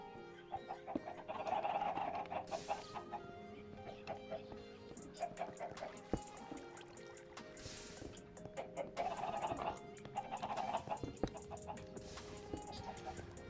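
Chickens in a video game cluck and squawk repeatedly in a busy, continuous mix, with scattered clicks and tones throughout, moderately close.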